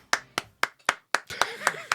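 One person clapping alone, eight sharp close claps at an uneven, slightly quickening pace, ending with a faint murmur of voices.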